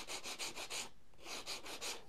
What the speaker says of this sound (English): I'm using sandpaper on a block this time because I want to keep it as flat as possible.